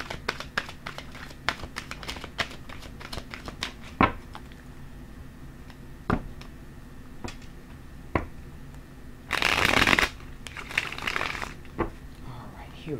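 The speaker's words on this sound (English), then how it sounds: "I'm going to put one more shuffle on these." Tarot cards being shuffled, with a run of sharp, separate flicks and snaps of the deck through most of the stretch, then a dense, loud riffle burst near the end. The sound is close and crisp, with no talk.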